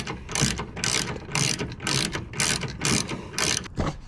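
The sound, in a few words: ratchet tightening tailgate bolts on a 2020 Jeep Gladiator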